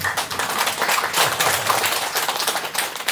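A crowd at a memorial ceremony at a Confucian academy applauds, many hands clapping in a dense, steady patter that holds evenly for a few seconds.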